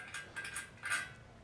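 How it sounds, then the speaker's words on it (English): The lock on a trombone being worked, giving a few faint, quick metallic clicks and clinks heard alone. "Another sound effect I used for the first half was the lock on my trombone."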